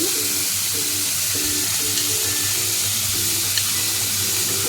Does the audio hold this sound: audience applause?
no